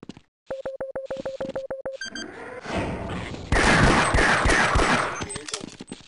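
Gunfire in Half-Life: Decay co-op play: a run of rapid, evenly spaced electronic beeps, then a dense burst of loud shots and blasts that thins out with a few scattered pops toward the end.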